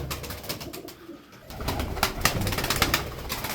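Mirror-tailed çapar Arab pigeons coo softly and repeatedly at close range, low murmuring calls over a brief lull midway, with no voices.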